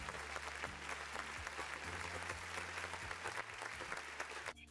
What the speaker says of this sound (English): All right, applause.